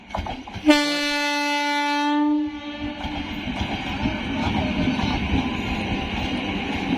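A passenger train entering Murshidabad railway station sounds a long, loud steady horn blast, then the rumble and rattle of cars rolling past continues to the end.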